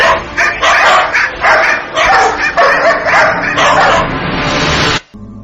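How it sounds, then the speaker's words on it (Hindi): A pack of dogs barks and yips over and over, loud and close, with whimpers mixed in as they surround someone, then goes abruptly quiet. "कि उसे चारों तरफ से कुत्तों ने घेर लिया।"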